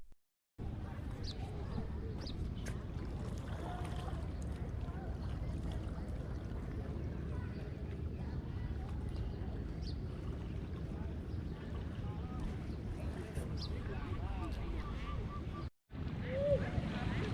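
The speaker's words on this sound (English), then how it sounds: "Let's listen to the sound of the waves hitting the shore. The wind here is quite strong." Strong wind rushing across the microphone on a riverside shore at dawn in Can Tho, Vietnam, with waves lapping underneath, a steady loud roar with brief dropouts.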